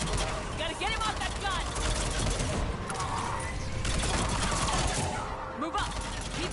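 Mounted gun firing in Mass Effect 3 during an enemy drop: sustained rapid bursts of gunfire under a noisy battle din, moderately loud and continuous, with voices calling out in between.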